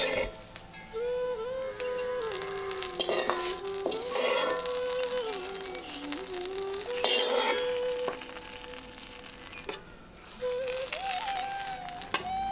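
Cashews, raisins, almonds and grated coconut roasting in butter for rice kheer, with a soft sizzle and occasional spoon scrapes and clinks against the pan, fairly quiet and close, alongside some tonal background music.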